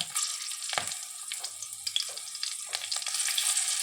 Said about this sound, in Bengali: কালো জিরে দেব ফোড়নে, তারপরে দিয়ে দিলাম কাঁচা লঙ্কা